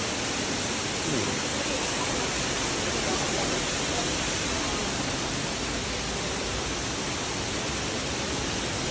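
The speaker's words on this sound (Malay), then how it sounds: "Tu yang air macam air terjun tu." Loud, steady roar of a river rushing over rocks like a waterfall, a continuous broadband wash close by along a Chongqing gorge trail, unbroken for the whole stretch.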